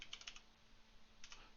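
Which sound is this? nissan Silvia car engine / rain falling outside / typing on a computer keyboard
typing on a computer keyboard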